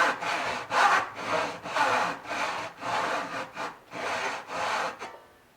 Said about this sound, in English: Once you get the cut all the way across the board, then you can take full strokes with the saw